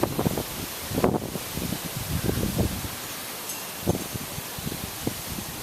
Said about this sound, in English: Still got a strong easterly wind.